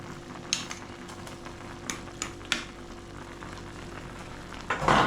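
A utensil stirs a pot of boiling plantain pepper soup with cow meat in an African village kitchen, giving a few distinct scraping knocks against the pot over a steady bubbling hiss, ending in a louder clatter.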